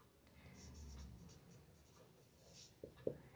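A pen writes on paper during an English comprehension lesson, making a soft, continuous scratching close by, with a couple of sharper taps near the end.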